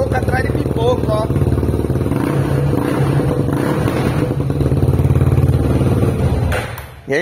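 A methanol-fueled Honda Twister 340cc motorcycle idles loudly with irregular exhaust pops and thumps breaking through the engine drone, and a voice speaks briefly near the start.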